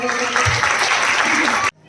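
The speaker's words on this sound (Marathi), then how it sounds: "जोरदार टाळ्या होऊन जाऊ दे." An audience at a Ganpati special Home Minister game show in Ernakulam, Kerala, breaks into loud, dense clapping that carries on under a voice and then cuts off abruptly.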